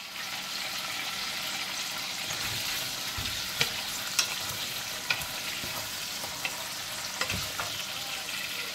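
Tomato chutney (pachadi) being stirred in a pan, a steady sizzle and scraping mix with several sharp spoon clicks against the pan, close up and alone.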